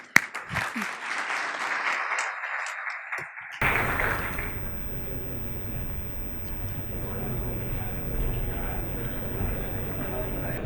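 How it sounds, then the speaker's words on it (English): Applause for panelists at a business summit, starting as a sharp burst of clapping that thins out, then a room-filling wash of sustained applause and crowd noise for the remaining seconds. "please a huge round of applause for the panelists and for Naama for doing such a wonderful job"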